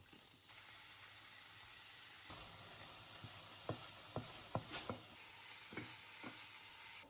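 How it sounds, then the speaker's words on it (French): Lardons sizzle in a pan with onions softened in white wine, a steady broadband frying hiss joined by several sharp scraping stirs near the end. "je vais ajouter les lardons"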